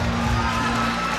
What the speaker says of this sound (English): the crowd is clapping in appreciation of the exchanges